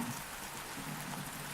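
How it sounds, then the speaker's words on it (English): Steady rain falls on a surface, a soft even hiss with scattered drop patter and no voices. "It is raining."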